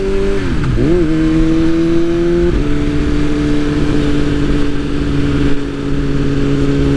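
A BMW M1000RR motorcycle cruising on the interstate, its engine holding a steady, loud mid-pitched drone with a brief dip and rise in revs near the start, wind rush underneath throughout.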